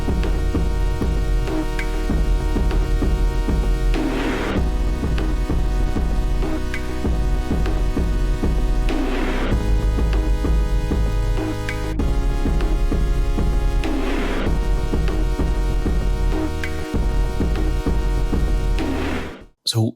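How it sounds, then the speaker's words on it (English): A thick, dense drum break sample looping continuously: punchy kick and snare hits over busy cymbal wash in a steady groove, loud and full, stopping with an abrupt cut at the end. "I actually found this drum break on Splice."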